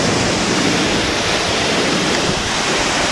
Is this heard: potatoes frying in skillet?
no